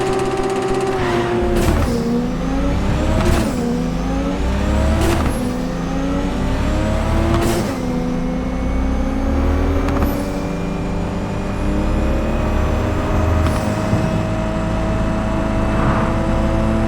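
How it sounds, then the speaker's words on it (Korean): Hypercar engines roaring in a drag race in Cyberpunk 2077, loud and continuous, with repeated sharp rises in pitch as the cars accelerate through the gears and no talk. "그럼 두 번째 팀 드래그 레이싱 감상해 보겠습니다"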